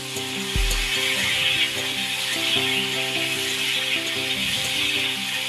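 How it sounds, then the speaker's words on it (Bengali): Potatoes and pointed gourd fry in a covered pan, giving a steady, continuous sizzle with soft rubbing and scraping, close and moderately loud, with no talking. "আমি আলু পটলগুলোকে ঢাকা দিয়ে ভেজে নেব"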